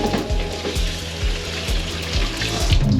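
Water runs while soup ingredients are washed for a traditional Spanish puchero broth, a close, continuous splashing and hiss with irregular clatter throughout.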